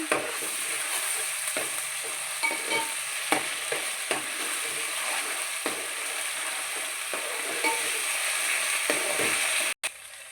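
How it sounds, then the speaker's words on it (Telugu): Ginger garlic paste fries in a pan for a chicken gravy curry, a continuous close crackling sizzle broken by scattered stirring clicks and scrapes, with one sharp knock near the end and no talking. "అల్లం చిన్నులపాయ పేస్ట్ వేసుకుందాం. పచ్చి వాసన పోయేంత వరకు వేగనివ్వాలి."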